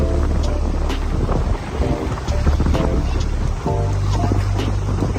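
Sea waves wash steadily onto the beach at Laem Mae Phim in Klaeng, Rayong, making a loud, continuous rushing surge that swells and eases, with strong wind buffeting the microphone.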